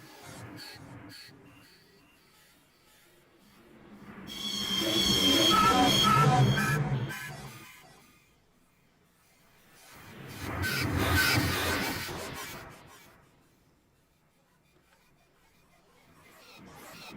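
Synthesized soundscape texture built in Bitwig with ping pong delay, two slow swells of dense, noisy, metallic sound rising and fading between quieter stretches, with a voice talking softly in places.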